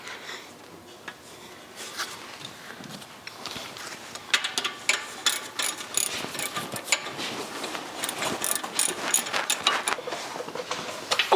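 A socket ratchet turns clutch bolts on an International Harvester 674 tractor, with a run of close, rapid metallic clicks that grows busier and louder partway through.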